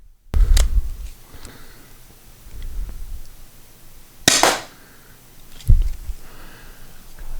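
Three sharp, loud pops from a Byrna HD less-lethal launcher fired over a chronograph, spaced about two seconds apart, each a short crack with a brief tail, with quiet room tone in between.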